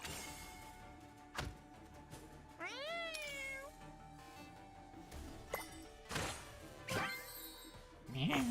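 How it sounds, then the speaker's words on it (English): Cartoonish cat meows from the video game Honkai Impact 3rd, a few short pitched mews spaced across the clip amid game music and sound effects, with brief thumps and crashes mixed in. "How many cat sound effects are there in Honkai Impact 3rd?"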